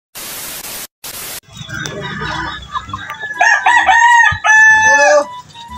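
A fighting rooster crows loudly and close by, a strained, drawn-out cock-a-doodle-doo with some clucking just before it, after brief bursts of static.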